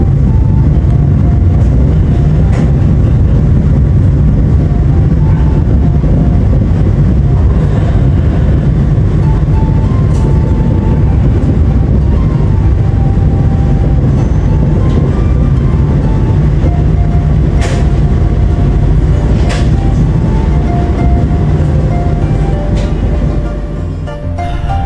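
The Menoreh passenger train rumbles along the tracks after leaving Bekasi station, Indonesia, with a steady, loud roar and occasional rattles and clacks, heard from on board.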